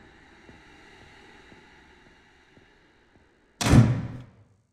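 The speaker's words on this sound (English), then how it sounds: "Door?" A door in the horror game Home Sweet Home slams once with a single sharp, heavy thud. Faint ambient hum and soft ticking precede it, and the impact rings out briefly before fading to quiet.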